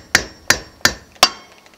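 Hammer striking a nail through a tin can, four sharp evenly spaced metallic taps with short ringing decays, close and clear with no talking.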